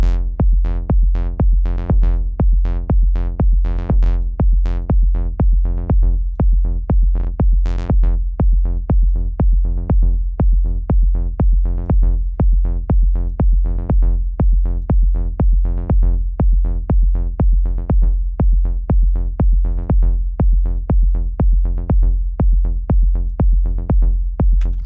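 Dark techno groove built from Ableton plug-ins: a steady, repeating synth pulse with a fast-closing filter envelope and a darkened tone, loud and relentless, with dense even hits and no voices.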